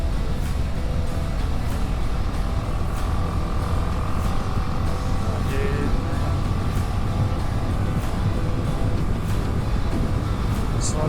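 A BMW G310 GS motorcycle on the move gives a steady engine drone and wind rush throughout, with no break in the noise.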